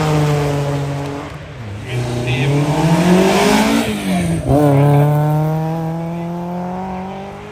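Ford race car charging up a hillclimb course, its engine loud and close, revving hard with the pitch climbing, dropping sharply at gear changes, then climbing again.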